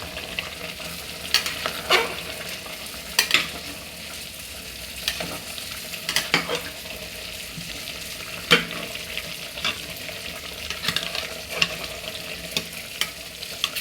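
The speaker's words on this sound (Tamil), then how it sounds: "இப்போ மூடி திறந்து கிளறி விடுவோம்" Vegetable biryani being stirred in a steaming pot, a spoon scraping and turning the rice and vegetables in repeated close strokes over a steady background hiss, with no talking.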